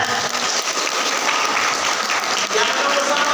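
Steady, dense applause from a crowd at an organization's officer inauguration ceremony, loud and continuous throughout with no pauses.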